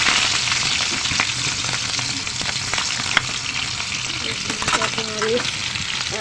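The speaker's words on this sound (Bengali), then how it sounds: "এখন আমি এখানে বসাই দেব করলা ভাজি" Bitter gourd (karela) frying with garlic in a pan, a loud, steady close sizzle with scattered stirring knocks throughout.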